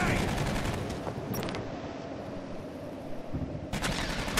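Rapid turret gunfire from the Aliens: Colonial Marines video game rattles in dense bursts, loud and continuous at first, easing briefly, then a sharp burst returns near the end.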